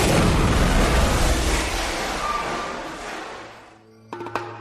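Ignited methane gas in an exam room bursts in a comedic explosion effect, a loud broad roar that decays over several seconds before a few faint clatters follow.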